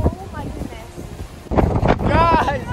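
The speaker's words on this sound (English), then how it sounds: "It is so windy out here." Strong hurricane wind buffets the microphone in loud gusts on a beach while people talk excitedly over it, with rough surf in the background.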